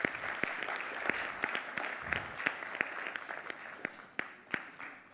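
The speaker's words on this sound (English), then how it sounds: "please, please, please give them an amazing thank you clap." An audience claps in thanks for a conference panel on remote and blended work. Distinct individual claps ring out over a moderate, continuous patter of applause, with no speech.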